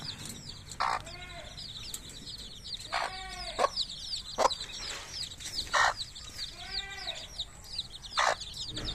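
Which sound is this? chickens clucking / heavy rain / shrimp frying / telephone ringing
chickens clucking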